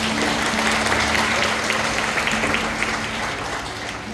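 A church congregation applauds after a sermon reading at a revival gathering in Guanambi; sustained, loud crowd clapping runs throughout, with a faint low hum and murmur underneath.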